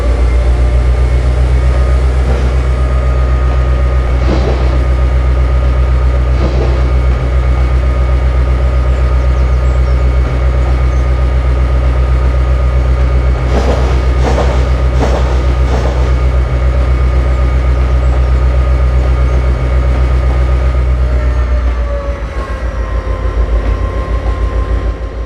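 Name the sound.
cargo train locomotive running, from Train Simulator video game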